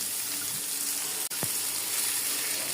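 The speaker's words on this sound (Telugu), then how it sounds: "అరటికాయ, ఉల్లిపాయ అన్నీ కలిపి పెట్టుకున్న మిశ్రమం ఫ్రై చేసుకుందాం" A raw banana and onion mixture fries on low heat in a pan with a constant soft hiss and one brief knock partway through, and no voices.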